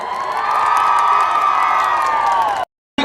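A crowd at a BJP political rally in Darjeeling cheers and shouts loudly in welcome for nearly three seconds, with a brief cut before the noise resumes.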